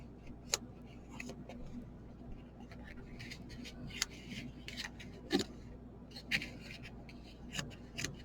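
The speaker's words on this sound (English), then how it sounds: "So I'm just going to trim off all this excess." Scissors snip away excess material from a small handmade chocolate box decoration, a series of quiet, scattered cuts and rustles spread across the stretch with soft background noise.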